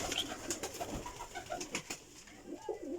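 High flying breeding pigeons coo softly inside a room, several low rolling calls overlapping at close range amid faint rustling, with no talk.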